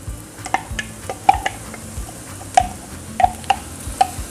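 Garlic, chili and ginger paste frying in oil with onions, a soft sizzle under scattered stirring clicks and utensil taps against the pan, close and fairly quiet.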